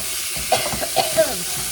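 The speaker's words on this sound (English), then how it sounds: "So I'm browning my hamburger meat." Fatty 80-20 hamburger meat browning in a pot gives a soft frying sizzle under a few quick stirring scrapes and clicks, heard close and without talk.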